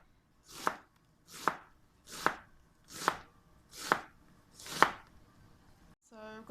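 Six evenly spaced knife chops strike a cutting board while dicing stuffed kumara ingredients, each a crisp close thud about a second apart, with a brief voice starting at the very end.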